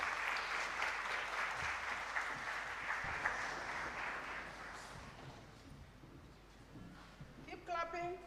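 Sustained crowd applause fills a large indoor hall as an audience stands to welcome Kenya's Deputy President at the LEAP Job Fair at the University of Nairobi, loud and steady before thinning toward the end, with a voice on the sound system briefly over it.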